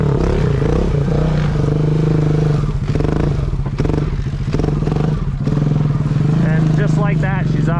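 Honda Rubicon ATV engine revving hard and steadily throughout as the quad lifts into a wheelie with the rider standing on it, a loud continuous drone with clattering and some rises in pitch near the end.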